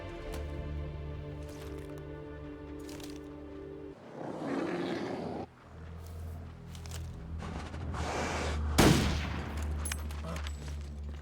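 Gunfire in the video game Stalker, a few scattered shots and bursts against a humming game backdrop, one sharper louder crack near the end standing out.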